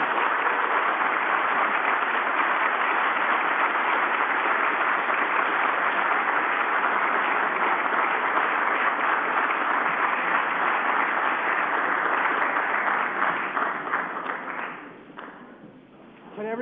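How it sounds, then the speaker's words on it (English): Sustained audience applause after a Federalist Society address by Vice President Pence, dense and steady for about fourteen seconds before thinning out near the end. "And give a round of applause."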